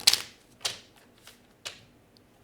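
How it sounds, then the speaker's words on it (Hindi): A deck of tarot cards is shuffled in four short papery bursts spaced about half a second apart, close to the listener, with quiet pauses between them. "मैं एक दफ़ा फिर से शफल कर लेती हूँ डेक को"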